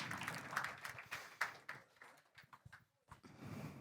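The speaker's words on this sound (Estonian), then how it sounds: "teeme suure aplausi, palume lavale Reena" An audience claps at a school-age green-themed closing event in Telia's headquarters, a brief patter of applause that swells and fades over a few seconds.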